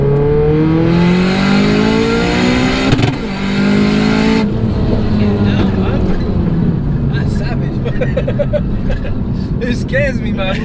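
A tuned 544 bhp Audi S3 accelerates hard on boost, its engine note climbing loud and close in rising sweeps, with people talking inside the car over it.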